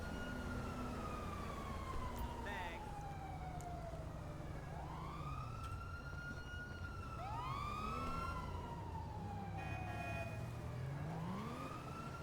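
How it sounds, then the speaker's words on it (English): Police sirens in the video game GTA 5 wail continuously, rising and falling in overlapping sweeps over a constant low engine hum, loud and close throughout. "Yeah, sorry about the sirens."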